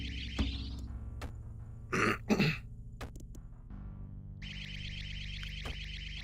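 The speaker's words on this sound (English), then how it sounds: "That's the sacrifice sound." Video game sacrifice sound effect: a shrill, warbling electronic tone that sounds twice, with clicks and scraping noises between, indoors and fairly close, without speech.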